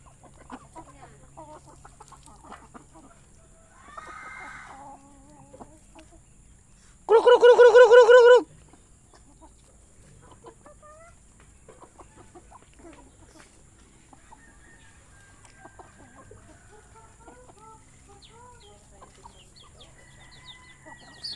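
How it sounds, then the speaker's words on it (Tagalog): Chickens and a big rooster on a farm, scattered soft clucks and chatter throughout, with one loud, sustained crow standing out clearly in the middle. "Yung pa isang malaki tandang"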